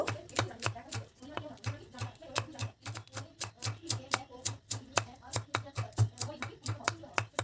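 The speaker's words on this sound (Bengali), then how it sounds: "পেঁয়াজ কলিগুলো খুব সুন্দরভাবে আমি কুচি কুচি করে কেটে নিয়েছি" A large knife chops spring onions finely on a board in a steady, rapid rhythm of crisp, close knocks, with a low steady hum underneath and no one talking.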